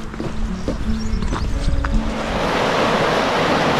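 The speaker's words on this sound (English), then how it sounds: "That's how fast the river is today." The fast-flowing river in Borrowdale Valley, swollen after rain, gives a steady, loud rushing roar of water over rapids, with broadband noise and some wind buffeting on the microphone and no speech.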